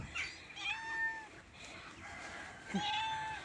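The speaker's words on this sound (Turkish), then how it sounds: "Kediler de çıkıyor bak karşılama." Several meows from cats nearby, with faint chicken-like calls and outdoor noise in the background.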